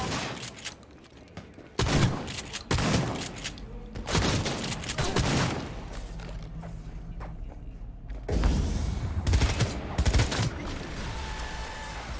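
Gunfire from the Cyberpunk 2077 video game: several loud bursts and sharp shots come in clusters over a steady background of game ambience and music, with no voice on top.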